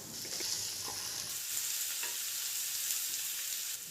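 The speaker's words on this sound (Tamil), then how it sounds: "கிரேவி கொஞ்சம் நேரம் கொதிக்கணும்" Raw banana gravy with turmeric and chilli powder bubbles in a pan after a glass of water is added, giving a steady, close sizzling hiss with faint stirring and no voices.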